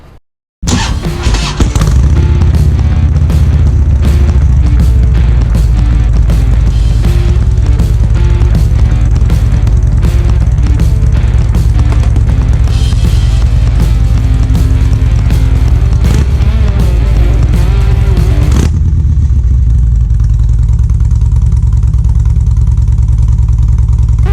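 A 2007 Harley-Davidson Ultra Classic motorcycle engine starts and idles loudly up close with a steady deep rumbling throb, then the sound drops away near the end.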